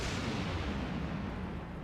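An overloaded power cell in a video game detonates as a dense, sustained low-heavy blast rumbling through the whole moment, loud and enveloping with no voices.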